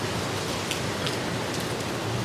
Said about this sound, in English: it is raining very hard in Boa Viagem. And this is a typical tropical shower